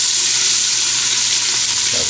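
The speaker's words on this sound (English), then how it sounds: "I'll be frying up some of the seasonings, onions and garlics in butter and oil" Onions and garlic frying in a pan of butter and oil, a steady close-up sizzle and crackle that runs unbroken and loud throughout, with no talking.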